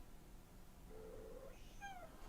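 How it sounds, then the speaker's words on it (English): A faint cat meow from a house cat near a workbench, one short, rising call followed by a second brief cry, quiet and alone over low background hum. "Can you guys hear Kitty?"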